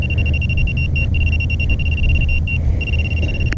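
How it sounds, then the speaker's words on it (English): A Minelab Pro-Find 35 metal detector pinpointer's non-ferrous signal: a steady high electronic tone hums continuously over low rumbling background noise, briefly cutting out a couple of times before resuming. "That's this non-ferrous noise."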